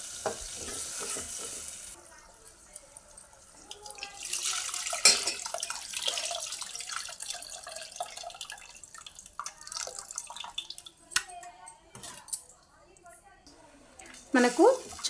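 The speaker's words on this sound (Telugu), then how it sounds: "ఇప్పుడు చింతపండు నానబెట్టింది పిసుకొని వేసుకోవాలి" Soaked tamarind squeezed by hand into a pot of tomato rasam, giving wet squelching, dripping and stirring sounds with clinks, while a person talks over it.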